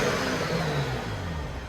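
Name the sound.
straight-piped 2013 BMW 335i turbo engine revving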